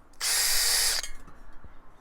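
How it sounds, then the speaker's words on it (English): A power drill whirs loudly for under a second as it bores a bolt hole through a wooden porch swing frame beam, then stops, leaving quiet rustling. "mark the hole with your drill bit"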